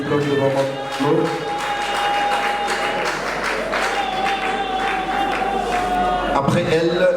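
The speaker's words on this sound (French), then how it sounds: "Applaudissons pour le diplôme de Maman Claude." Sustained audience applause at a diploma award ceremony, steady dense clapping from a crowd in a hall running the full length, with voices and a tone mixed in.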